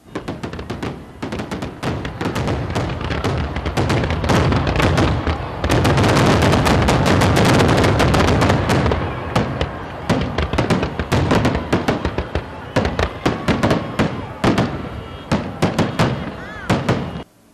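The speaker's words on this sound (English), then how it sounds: "to see the entire Pahrump Nugget fireworks show" Fireworks show at a Pahrump Nugget Independence Day celebration, a dense barrage of sharp bangs and booming thuds that builds to a continuous loud volley, then breaks into scattered cracks and pops, with crowd voices faint underneath.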